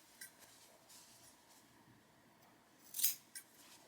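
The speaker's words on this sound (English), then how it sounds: "Next, we take out the pins and we snip the corners" Scissors snip the corners of a fabric coaster, giving a faint quiet snip or two near the end, with a softer click earlier.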